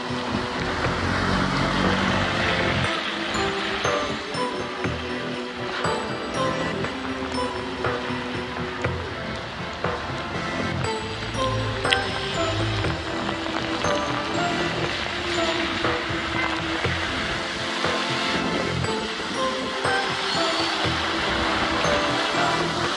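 Rain and passing traffic on a flooded low stretch of road on Mactan Island, Cebu, a loud continuous roar of engines and water splash with steady wind-like noise throughout.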